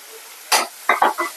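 Tomatoes hit a hot pan with a short burst of sizzling, followed by a few quick scraping stirs that crackle and fry, close and fairly loud.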